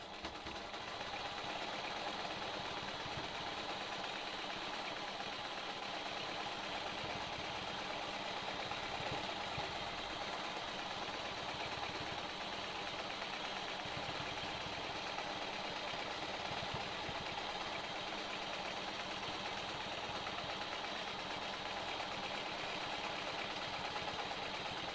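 A sewing machine runs steadily while stitching in the ditch on a Sawtooth Star quilt block, giving a continuous mechanical whir and hum at an even level from start to finish. No one speaks over it.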